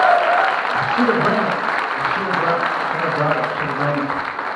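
Loud, dense applause from an audience at a live performance during Western Art Week, a steady unbroken wash of clapping that fills the whole stretch.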